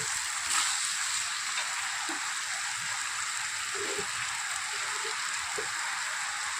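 Paneer curry sizzles in a frying pan as it is stirred, a constant hissing crackle with a few faint soft taps from the spoon underneath.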